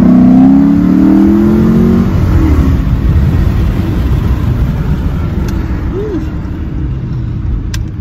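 A Dodge Charger RT with the muffler deleted rumbles and revs nearby, its loud, raw exhaust note swelling and fading over several seconds in a rainy New York street setting, with faint voices underneath.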